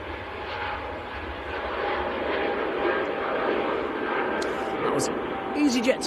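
EasyJet airliner flying at Manchester Airport in freezing winter weather, a broad, steady roar of jet engines at middling distance, with brief sharper noises near the end.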